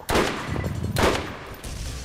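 Gunfire in the video game Borderlands: two loud, close bursts of shots, each with a sharp crack and a rumbling tail, followed by a third softer burst.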